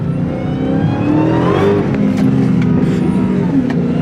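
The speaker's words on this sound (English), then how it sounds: "As soon as you hit the gas, ain't no traction on this thing." A Dodge Hellcat engine revving hard as the gas is hit on a rain-wet road, a loud close roar that rises and sways in pitch for several seconds with a faint whir behind it.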